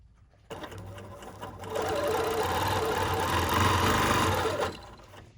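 A BERNINA sewing machine, freshly cleaned and threaded, runs in a steady, close mechanical whir with a light rhythmic clatter for about four seconds, heard alone.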